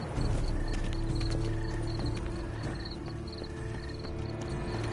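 Horse hooves clip-clop steadily in a video game, with a soft ambient bed and faint tonal sounds running beneath the hoofbeats for the whole stretch.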